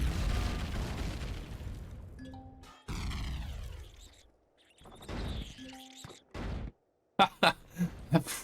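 A loud explosion booms in the Empyrion Galactic Survival video game, a heavy rumbling blast at the start that decays, followed by scattered crashes, falling tones and sharp bursts.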